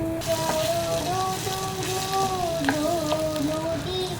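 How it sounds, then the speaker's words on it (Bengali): Meat masala sautéing in a pan for a chicken curry with potatoes, a soft continuous sizzle and light stirring under a steady background tone, close and fairly quiet. "এবার এটা ভালো করে কষিয়ে নেব"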